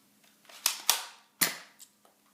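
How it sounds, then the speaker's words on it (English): A Nerf Zombiestrike Clearshot blaster fires darts indoors, giving three or four sharp close pops in quick succession followed by a fainter click. "So you can just keep loading these in and firing."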